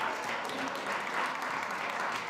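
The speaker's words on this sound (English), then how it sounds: "Another round of applause for the great Stephen Ritz." A round of audience applause for Stephen Ritz at a food summit at SXSW, a dense, even roar of many clapping hands throughout, moderately distant.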